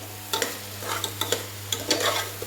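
Masala paste added to onions frying in oil for egg biryani, stirred in a pan; close scraping and clattering strokes come in bursts over a soft sizzle and a steady low hum, with no voices.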